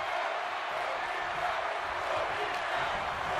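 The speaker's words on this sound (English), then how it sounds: "Everybody you hear the crowd" A crowd in the WWE 2K23 wrestling video game roars in a steady, continuous wash of cheering during a John Cena versus Austin Theory match, heard fairly faint as a constant background bed.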